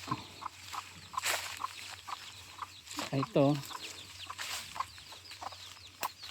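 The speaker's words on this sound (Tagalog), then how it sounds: "mga freelance chicken, maraming manok." Free-range chickens cluck on a farm in Palawan, and one rooster-like call rises briefly in the middle, amid outdoor ambience, with a voice speaking briefly.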